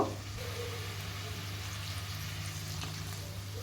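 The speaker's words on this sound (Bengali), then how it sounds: "আর একটু জল দিয়ে দেব" A pan of potatoes and raw banana sizzles after water is poured in, with a brief burst at the start settling into a steady, soft bubbling fry heard close up.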